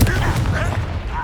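Fiery Confringo blast spell from Hogwarts Legacy, a dense rumbling explosive burst at the start that trails into a continuous noisy wash of game effects and ambience.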